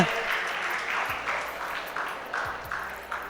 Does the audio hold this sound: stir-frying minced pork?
no